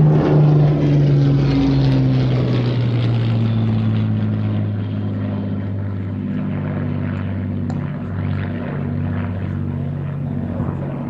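A propeller aircraft flying at an air festival gives a loud, continuous engine drone whose pitch slowly falls as it passes, with no voices over it.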